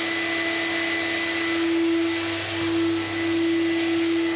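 A home's built-in central vacuum system runs continuously, a loud steady motor roar topped by a sustained whine, with only slight swells in level and no voices.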